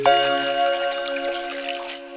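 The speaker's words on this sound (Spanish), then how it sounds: "¿Por qué se para el sonido del agua?" Cartoon water dripping in a calm corner, a close, soft liquid trickle and drip that runs steadily for about two seconds over a sustained tonal hum, then stops abruptly.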